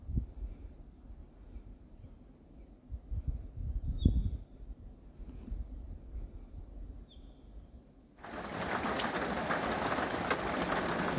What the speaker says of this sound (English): here we are in the rain at Collins Hut